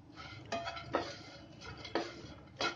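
Cashews, almonds and raisins roast in a pan, stirred with a spoon that scrapes and clatters against the metal about four times, soft and close with a faint sizzle beneath.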